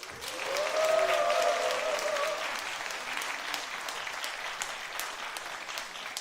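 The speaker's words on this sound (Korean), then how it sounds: "위에 층도 박수를 쳐야 돼요." Steady applause from a large church congregation fills the space, louder at first and then settling into a softer, continuous clapping.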